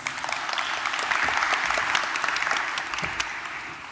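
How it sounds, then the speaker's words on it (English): A conference audience gives a steady round of applause for a speaker coming to the podium, many hands clapping densely at moderate volume for nearly four seconds, with no speech over it. "We can give her a round of applause."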